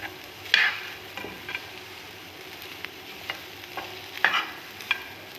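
Bitter gourd (ampalaya) cooking without oil crackles in a pan with a soft, dry sizzle, punctuated by sharp scrapes and clacks of a utensil stirring it, up close and with no talking.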